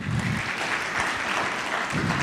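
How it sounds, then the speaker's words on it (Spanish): A church congregation applauds during a worship service in La Paz, Bolivia, with continuous moderately loud clapping from many hands, a faint voice or low murmur surfacing briefly at the start and end. "Fuerte aplauso al Señor."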